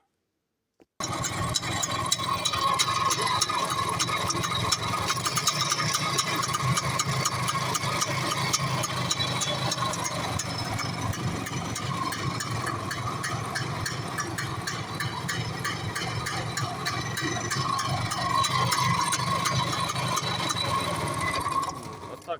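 IZh Planeta 3 motorcycle engine fitted with a scooter CDI ignition, running steadily at close range with a dense mechanical clatter and rapid ticking throughout, no talk.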